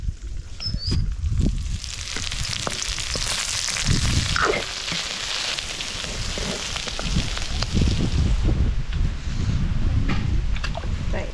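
Onions fry in a pan with a steady, close crackling sizzle that carries on throughout, broken by occasional stirring knocks.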